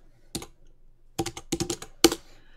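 Someone types a folder name on a computer keyboard: several quick bursts of keystrokes, close and crisp, separated by short silent pauses, with no speech.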